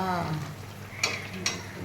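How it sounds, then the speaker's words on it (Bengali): Malpua batter frying in hot oil for a Janmashtami sweet, a steady soft sizzle with stirring and two brief clinks of utensil on pan. "কি মালপোয়া ভাজা শুরু করে দিয়েছো?"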